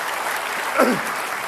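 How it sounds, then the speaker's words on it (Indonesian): Studio audience applauds for Pak Basuki at a televised final debate for the Jakarta gubernatorial election, a brief steady wash of clapping with no talk over it. "Kita beri aplaus untuk Pak Basuki"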